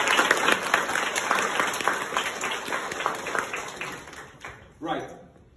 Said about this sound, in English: But one more round of applause